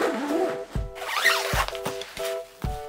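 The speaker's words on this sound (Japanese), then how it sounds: "そんでチャックあるのはこことバイク本体を入れる" Zipper on a bicycle-style carry bag for an electric moped being pulled in several quick, close, rasping strokes with brief pauses between them.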